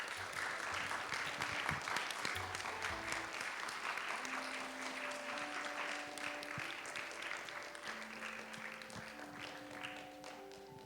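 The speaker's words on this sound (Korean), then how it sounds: "나올 때 박수 부탁드리겠습니다." A church young-adult congregation applauds during a Sunday worship service, with steady, moderately distant clapping that continues for about ten seconds over faint background tones.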